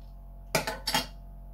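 A can of Vault City strawberry session sour cracked open: two sharp, close metallic snaps in quick succession, the tab pop followed by a second hiss-edged click, then quiet.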